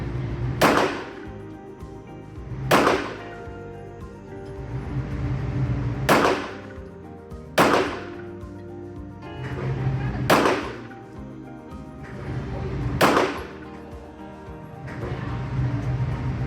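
A Walther PPQ Q4 Tac M2 pistol fires single loud, sharp shots spaced one to two seconds apart, each cracking over a steady background rumble at an outdoor range.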